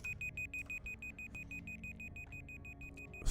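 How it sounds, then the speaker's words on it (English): Electronic beeping repeats in a steady, quick pulse of high thin tones, fairly faint over a low background hum, with no talking. "Stop beeping now, please"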